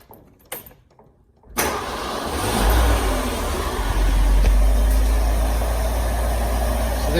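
A Ford Bronco engine cranks and catches after a quiet moment, then settles into a steady, loud, close idle with a deep low rumble that holds for several seconds.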